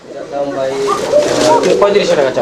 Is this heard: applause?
no